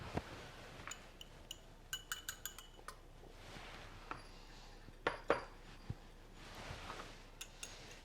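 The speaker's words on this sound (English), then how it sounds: "I'm just going to go ahead and mix this cheese in here now." A spoon stirs cheese into a keto Alfredo sauce in a pot, giving faint, intermittent metallic clinks and scrapes against the pot's sides at an irregular pace.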